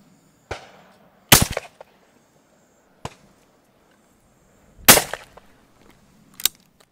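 Shotgun shots fired at sporting clay targets at an outdoor shooting ground, several sharp, loud reports spaced irregularly, some in quick pairs, with short outdoor decay between them.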